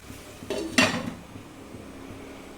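A utensil scrapes and clinks against a pan while onions and mushrooms are stirred for a butter garlic mushroom dish: two short, fairly close clattering strokes, then a quiet room with no talk.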